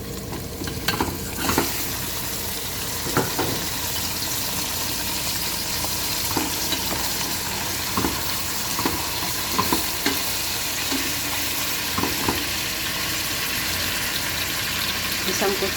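Chicken pieces frying in a pan for a white curry with cooking cream, a steady loud sizzle broken by repeated scraping stirs of a spatula, with no talk over it.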